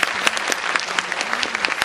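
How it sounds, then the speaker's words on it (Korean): A theater audience at a Korean film screening and guest talk for Kore-eda's Shoplifters, with actor Ryu Jun-yeol present, claps steadily and loudly, a dense wash of many hands with no voices. "박수 부탁드립니다"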